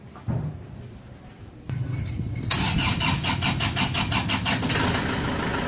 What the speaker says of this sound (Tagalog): Tapos pa-start ko itong makina.